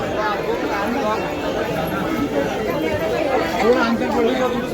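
A large crowd at Akkalkot Swami Samarth temple fills the space with a close, continuous babble of many overlapping voices at a steady level.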